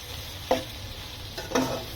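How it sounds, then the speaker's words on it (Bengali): Lotus stolons and dried fish sautéed with tomato in a pan, with a soft, low sizzle under two distinct stirring scrapes of the spatula. "এই যে কষিয়ে নিচ্ছি, টমেটো দিয়ে দিলাম।"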